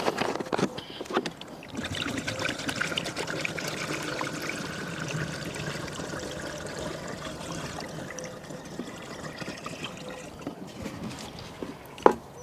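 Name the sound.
water pouring into container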